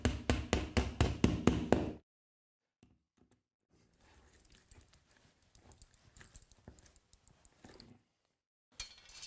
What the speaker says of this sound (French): Je pose la cheville.